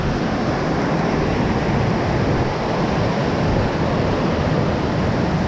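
A lower waterfall near a set of bridges, swollen with heavy flow, produces a steady, loud broadband rush of falling water that holds evenly from start to finish with no voices.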